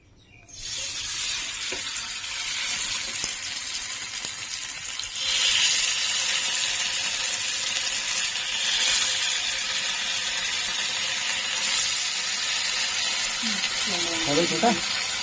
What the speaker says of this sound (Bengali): তো বন্ধুরা তেল তো গরম হয়ে গেছে এবার আমি এগুলোকে ফ্রাই করে নেবো